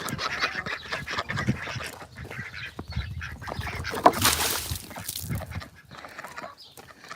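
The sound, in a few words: ducks quacking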